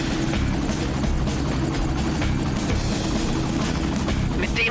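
Helicopter in the video game XIII flies with a loud, continuous rotor thrum and engine drone throughout, with game voices talking faintly underneath.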